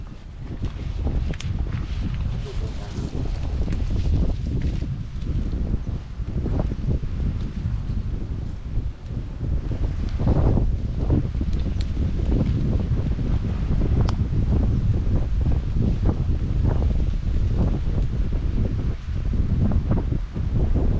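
Strong wind buffets the microphone in continuous rough gusts, with low rumbling and faint rustling, no voices heard.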